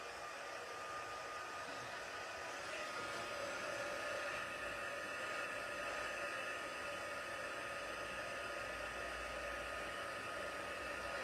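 A heat tool warms up for heat embossing, blowing a constant loud, even rushing whir like a hair dryer, close by and unbroken, with no voices.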